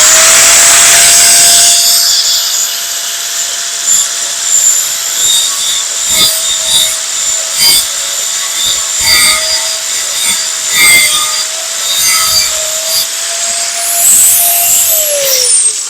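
An angle grinder grinds down a weld on a steel pipe, a loud continuous high-pitched whine with a steady tone that shifts slightly as the disc bites, running nearly the whole clip before winding down.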